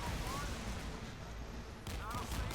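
Naval cannon and missile fire in the warship video game Modern Warships: dense, loud rolling blasts and booming volleys layered over continuous battle noise, with a brief sharp burst near the end.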